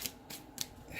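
Tarot cards being shuffled by hand, three short papery riffling bursts spaced apart, close and fairly quiet.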